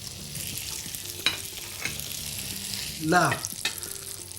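Rabbit skewers with rosemary sizzling in butter in a pan, a steady fry hiss with a few scrapes and clinks of a utensil, one short spoken word near the start.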